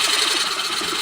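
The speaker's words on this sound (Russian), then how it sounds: "Вообще дуб нормально сверлит пером?" A power drill with a spade bit boring into hard oak wood gives a steady, dense whirring grind that runs continuously and close, with no talk over it.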